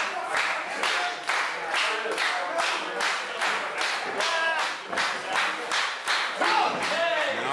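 A wrestling crowd claps in a steady rhythmic beat, roughly two claps per second, loud and close, with scattered shouts mixed into the rhythm.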